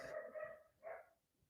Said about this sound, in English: I'm sorry if you can hear that dog next door.